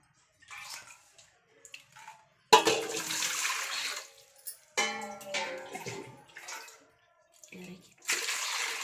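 Tap water runs for cooking greens, coming in loud gushing bursts with short pauses between them while a voice talks quietly at the start.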